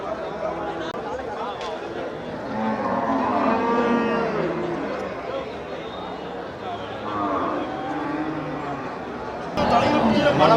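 Native cattle at the Melapalayam cattle market moo repeatedly, with long, low calls that overlap one another, over a steady hubbub of crowd chatter and people talking nearby.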